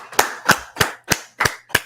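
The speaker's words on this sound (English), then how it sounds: "Let's clap it up." A group at an outdoor gathering in Washington DC claps in unison, six sharp, evenly spaced claps in a steady rhythm, loud and close.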